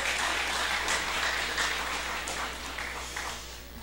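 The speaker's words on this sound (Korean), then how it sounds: "참 잘하셨다고 다음에 또 하시라고 큰 박수 한번 해주시기 바랍니다" A church congregation applauds after a hymn performance at a Sunday morning service, a dense, steady wash of clapping from many hands that holds for several seconds and fades slightly toward the end.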